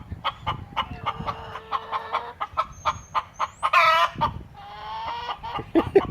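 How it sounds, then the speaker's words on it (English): Hens in a backyard coop cluck and cackle around egg-laying time, with repeated close, loud clucks and squawks, a rising call near the middle and a sustained raucous stretch toward the end. "these are the noises coming from the coop when everybody's getting their egg on"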